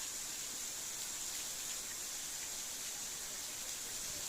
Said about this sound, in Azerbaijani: Və gördüyünüz kimi şəlalə də axır.